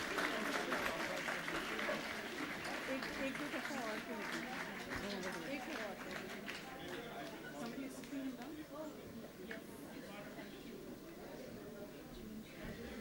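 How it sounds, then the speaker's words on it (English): Sustained audience applause at the Ramnath Goenka Excellence Awards ceremony as Kuldeep Nair receives the Lifetime Achievement award: dense, steady clapping from a large crowd throughout, easing slightly toward the end, with murmuring voices mixed underneath. "So a big round of applause, ladies and gentlemen, for Mr. Kuldeep Nair."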